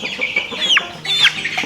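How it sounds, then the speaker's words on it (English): Chickens clucking nearby in a garage, a few sharp squawks and rising clucks in quick succession, loud and close with no talk. "No chickens allowed."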